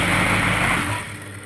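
Sewing machine stitching a blouse piece, a fast, loud, continuous mechanical whir that begins at full speed and tapers slightly toward the end, heard alone.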